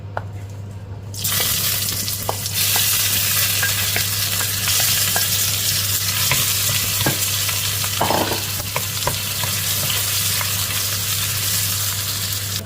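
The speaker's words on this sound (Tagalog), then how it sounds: "at igisa na natin guys dyan yung ating rekado" Garlic and onion sautéing in a hot pan for a bean sprout and tofu dish, a steady broadband sizzle after a quiet first second, with occasional stirring clinks and a constant low hum beneath.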